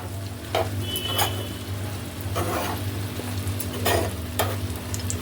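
Dry fruits and raisins frying in ghee in a pan for carrot halwa, a low steady sizzle with a few scattered spoon scrapes and stirring bursts, close and moderately loud, no speech.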